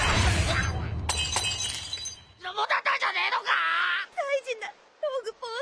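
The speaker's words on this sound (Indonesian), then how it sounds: "Namun, lock postnya pecah saat Sanji memukul Luffy karena menghabiskan makanan." A glass-like shattering crash from One Piece as the Log Pose breaks, loud and bright for about two seconds, followed by a voice moaning and whimpering in short wavering cries.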